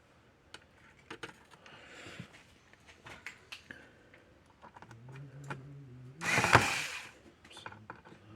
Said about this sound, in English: Now we got to put all the screws back in it.